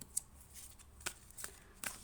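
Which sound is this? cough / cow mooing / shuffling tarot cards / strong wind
shuffling tarot cards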